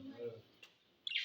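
Small parrots (budgies) kept in a house chirp with bright high twitters near the end of the clip, after a brief low murmur of indoor sound.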